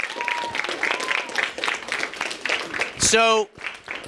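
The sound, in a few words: audience round of applause at school food drive event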